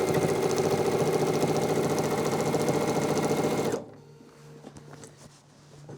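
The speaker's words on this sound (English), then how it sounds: "any other full-size quilt that I'm running through my machine" A sewing machine runs steadily, quilting a full-size quilt with a cuddle fleece backing, its loud even whir filling the first few seconds before stopping abruptly into quiet handling noises.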